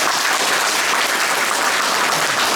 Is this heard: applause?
yes